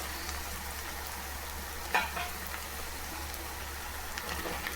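Onions sautéing in a pan for kara kulambu, a soft, steady sizzle heard alone with a brief clatter near the middle.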